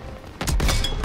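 Call of Duty WW2 gameplay with tank combat, where a quiet lull breaks into several heavy, booming gunshots and blasts in quick succession, loud and close.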